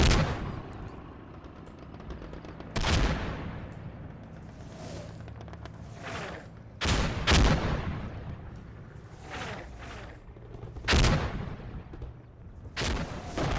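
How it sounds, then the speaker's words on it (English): An aircraft strafing run in a World War II video game set at Verrières Ridge: repeated heavy bursts of gunfire and booming impacts, loud and close, separated by stretches of rumbling battle noise. "We got a strafing run. Look at those rounds."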